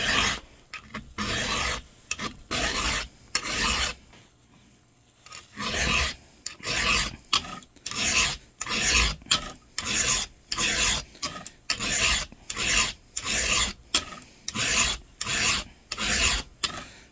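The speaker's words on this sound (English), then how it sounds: "you gotta count how many times you file each one" A hand file rasps across chainsaw teeth during sharpening in steady, close, evenly spaced strokes. A brief pause interrupts them before the rhythmic scraping resumes at the same pace.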